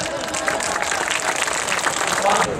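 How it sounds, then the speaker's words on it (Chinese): Audience applause at a Taiwanese American Cultural Festival performance by a National Taiwan University of Sports group, a dense, steady wash of many hands clapping close by, with cheering voices mixed in. "大家再给他们一次热情的掌声！"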